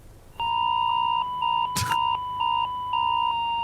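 An electronic alert warning tone sounds loud and close as a repeated two-tone beep in a broken rhythm of about six pulses, with a short noisy burst partway through and no talk.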